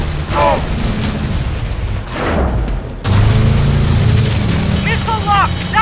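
Missile blasts and booming impacts during a vehicle chase in Call of Duty: Advanced Warfare, heavy low rumbles with a sharp burst midway, mixed with engine roar and brief chirping effects.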